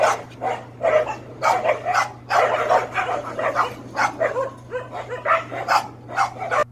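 Several dogs, including a Chihuahua, barking and yipping in rapid, overlapping bursts as they fight close by, with whimpers between barks and a low steady hum underneath.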